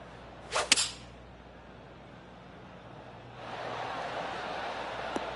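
A single sharp golf strike from about 170 yards in the final round of The Open, a crisp whip-like crack followed by quiet, then rising crowd noise.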